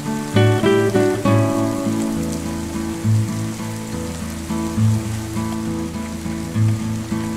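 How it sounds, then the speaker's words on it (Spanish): Rain patters steadily on surfaces all day in a school-set drama scene, a soft wash of drops under a gentle, repeating musical background, with no talking. "Tal parece que hoy lloverá todo el día."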